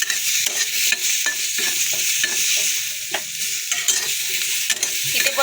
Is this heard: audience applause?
no